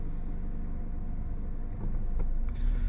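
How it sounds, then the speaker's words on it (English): A car driving up close on the road, a steady low rumble of engine and tire noise that grows slightly louder toward the end as it approaches. "She's a bit aggressive, this car coming up."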